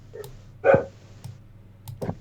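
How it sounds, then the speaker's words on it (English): A dog barks once, fairly close, with a few faint clicks and keyboard-like taps around it during live hurricane news coverage, no talk over the bark. "Who's the dog? Does he want to be on the air?"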